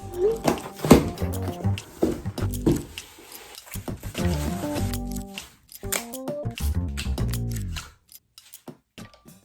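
Unboxing of a neck wrinkle care product: snipping, crinkling and handling of packaging in close, irregular bursts, with tonal background sounds, before the noise falls away near the end.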